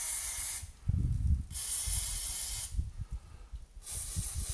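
Aerosol lubricant hisses in three separate bursts onto a massive bolt running through the lower suspension arm of a Jaguar XKR's rear subframe, each spray steady and close, with quiet workshop gaps between.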